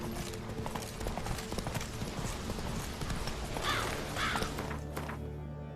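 A horse trotting in The Witcher 3 video game, with rhythmic clip-clop hoofbeats at a steady trot pace, close and clear, with some thuds and faint mechanical game sounds alongside.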